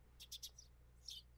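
Birds chirp in the game Higurashi When They Cry, a few quick high tweets in a short cluster followed by another brief trill, faint over a low steady background hum, no talking.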